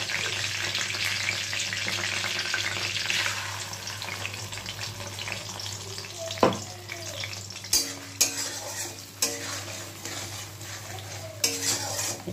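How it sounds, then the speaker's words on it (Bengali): Spice paste with green chillies frying in oil for a vegetarian pointed gourd dish, a steady close sizzle broken by clattering ladle stirs against the pan, more frequent in the second half. "একটু ভালো করে ভেজে নিতে হবে মশলাটা।"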